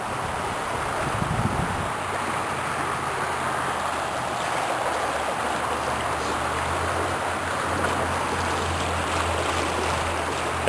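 A brook rushes in a steady, continuous flow beneath a rusted bridge, its water running high; the broad whooshing stays close and even throughout, with a faint low rumble underneath.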